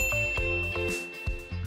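A bright notification bell dings, with a sustained high ringing tone lasting over a short, rhythmic musical backing.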